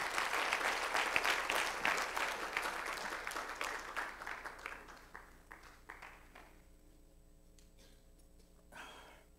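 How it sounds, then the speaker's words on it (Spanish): A church congregation applauds in a dense, loud burst of clapping that gradually thins out and fades to a few scattered claps, leaving a quiet room with a faint hum. "No, pero fuerte el aplauso al Señor,"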